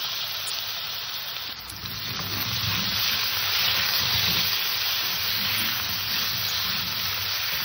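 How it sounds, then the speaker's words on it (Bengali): Potatoes and green banana sizzle in hot oil over a tempering of cumin seeds and a bay leaf. The frying hiss is steady and fairly loud throughout, with no voices. "আমার ফোড়নটা ভাজা হয়ে গেছে, আলু কাঁচকলাটা দিয়ে দিলাম।"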